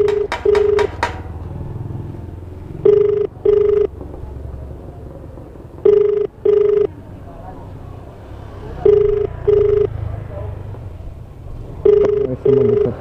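Outgoing phone ringback tone repeating in paired beeps every few seconds while calling an unanswering delivery customer, loud and close, with road and engine noise from a delivery rider's setting underneath.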